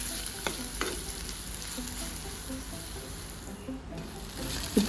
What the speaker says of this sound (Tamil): அதை நல்லா வதக்கி விட்டு இஞ்சி பூண்டு பேஸ்ட்டோட பச்சை வாசனை போகும் வரைக்கும் நல்லா வதக்கிட்டே இருக்கணும்